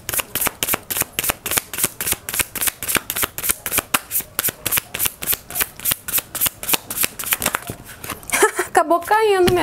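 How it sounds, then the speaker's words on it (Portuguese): Tarot cards shuffled and handled on a table, a quick steady train of crisp riffling snaps repeating many times, close and loud, ending with a brief voice at the finish. "Deixa eu botar as cartas mais pra cá, né?"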